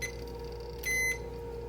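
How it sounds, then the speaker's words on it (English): Multimeter continuity test beep while checking an LED flasher kit circuit board for a solder bridge, a single short clean tone lasting about a quarter second against a quiet background hum. "I'm going to give it a quick continuity test"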